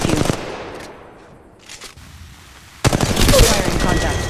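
Squad gunfire in Apex Legends Mobile: a loud opening burst, a quieter stretch with scattered distant shots, then heavy sustained automatic fire up close, with brief voice callouts in the mix.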